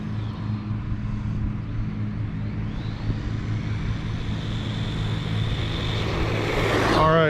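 A Hosim RC truggy runs at full throttle, its motor a continuous high buzzing whine that rises in pitch and grows louder as it speeds past close by.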